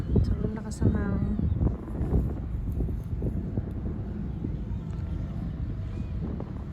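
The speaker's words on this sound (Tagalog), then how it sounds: "Sobrang lakas ang hangin." Strong wind buffets the microphone in a steady low rumble throughout, with voices talking over it, while flying a kite outdoors.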